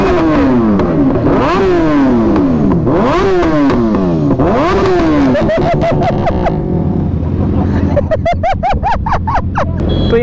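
Several superbikes rev hard and loud nearby during a Diwali ride in India, engine pitch repeatedly sweeping up and down, then sharp rapid throttle blips with crackles near the end.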